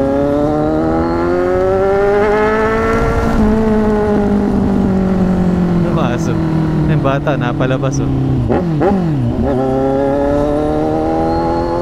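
A loud, raspy exhaust on a Kawasaki Z1000 sport motorcycle with an aftermarket SC-Project 61mm exhaust roars past close by, pitch climbing then dropping through gear changes, with people talking over it.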